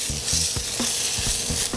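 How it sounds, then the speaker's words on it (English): Steady sizzling of fish frying in olive oil in a hot pan, close and continuous, with a few soft scraping clicks over the crackle. "You hear that nice sizzle of the pan, that's what you want to hear."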